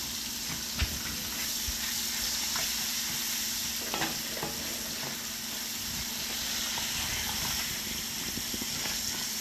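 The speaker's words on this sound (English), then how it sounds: "I want to add these onions in here, give it a little more flavor." Onions sizzle steadily in a hot pan, a continuous frying hiss with occasional scraping clicks and knocks as they are stirred, close and moderately loud with no talk.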